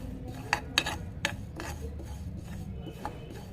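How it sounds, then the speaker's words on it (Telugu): White sesame seeds dry-roast in a pan, with a handful of crisp scraping and clinking strokes from a spoon stirring them, followed by a quieter rustle. "తెల్ల నువ్వులు కూడా వేపుకుంటున్నా"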